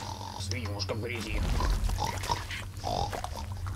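A wild boar piglet in the game Ghost Recon Breakpoint grunts and oinks in mud, giving several close, guttural grunts mixed with wet squelching. Someone talks over the sounds throughout.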